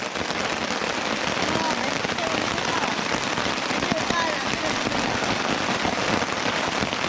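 Steady heavy rain drumming on a surface at a rainy-day backpacking campsite, a dense continuous hiss with no letup and patter close by.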